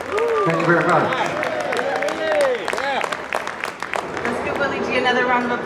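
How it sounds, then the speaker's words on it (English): Concert crowd at a neighborhood music school benefit show applauds after a performance, with continuous clapping mixed with cheering and shouting voices throughout. "Another round of applause for taking us way back."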